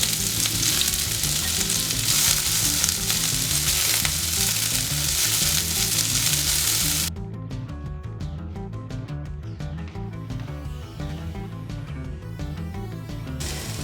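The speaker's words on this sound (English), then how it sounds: "Okay, time to add the onions." Onions sizzling and frying in a pan for a South African braai pie, a loud continuous crackling hiss close by that drops noticeably in intensity partway through, then carries on more softly with occasional pops.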